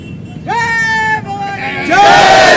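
A crowd at a political celebration in Daryapur taluka, marking Anandrao Adsul's appointment as chairman of the state Scheduled Castes and Tribes commission, shouts and cheers loudly, with rising voiced calls over a noisy background, swelling louder near the end.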